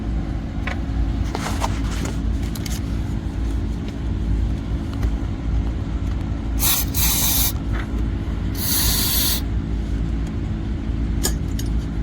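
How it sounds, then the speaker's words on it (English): Two sharp bursts of mass airflow sensor cleaner spray hiss over a steady, close engine idle, separated by a short pause, with a few faint clicks. "spray a little mass airflow sensor cleaner in there"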